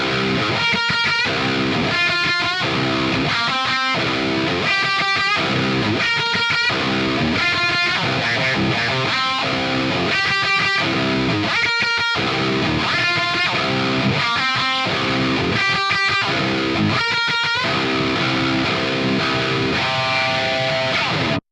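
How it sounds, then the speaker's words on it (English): Klowra Vein 2.0 pitch shifter pedal on guitar, its expression pedal sweeping the pitch from unison up one octave while dense, rhythmic chords repeat steadily for about twenty seconds, loud and close with no talk. "the expression pedal will ramp from unison up to 1 octave up"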